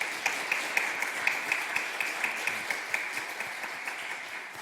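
Applause of thanks from a church congregation at a Wednesday worship service, steady rhythmic clapping from many hands with a few sharper accents, gradually tapering off toward the end.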